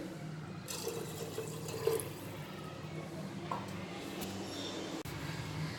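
Water runs steadily into a cooking pot for rice khichadi, a continuous filling rush with a faint splash partway through, close by and moderately quiet.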